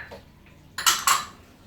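Tart batter of flour, oil, a pinch of salt and butter being mixed in a bowl, heard as two bright clinks and scrapes of a utensil against the bowl after a quiet start, close and fairly loud.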